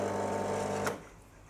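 An espresso machine flushes water through the group head before a shot, a steady mechanical hum and hiss lasting under a second that cuts off abruptly and leaves quiet room tone.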